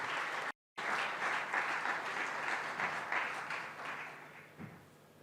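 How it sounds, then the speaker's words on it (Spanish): Audience applause at a university seminar, a dense steady clapping from a crowd that runs through the whole stretch, cut by one very brief gap and fading slightly toward the end, with no speech over it. "Un fuerte aplauso para él, por favor."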